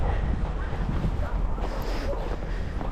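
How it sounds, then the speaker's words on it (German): Light winter wind buffets the microphone outdoors near a playground in Leipzig, a steady low rumble with broadband hiss running the whole time, close and fairly loud, with no talking. "Es ist auch ein leichter Wind."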